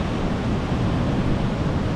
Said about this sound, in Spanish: Olha o barulho das ondas do mar.